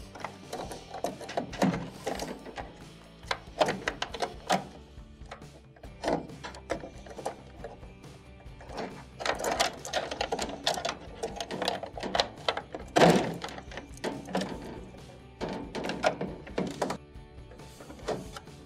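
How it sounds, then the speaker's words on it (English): Relays are pried one by one off a GE dryer control board, giving irregular small plastic clicks, snaps and taps close by with quiet pauses between them. "When you pull on these relays, make sure you put pressure on the actual relay while lifting up."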